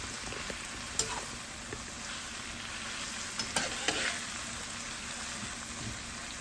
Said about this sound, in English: Just a little bit saute.